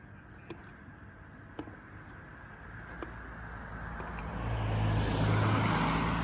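A vehicle approaches and passes nearby, its engine rumble swelling steadily over a few seconds amid road noise, with a few faint clicks early on.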